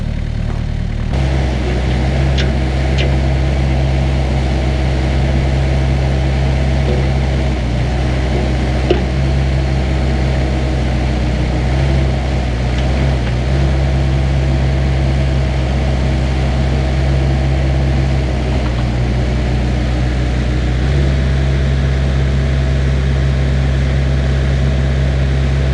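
A Cat 305CR mini excavator engine works under load as a loud, steady low diesel drone, with hydraulic strain and brief changes in pitch as the machine digs and lifts. No one speaks over it.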